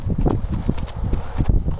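Horse hooves clip-clop steadily during riding, a continuous close rhythm of dull thuds with faint background talk.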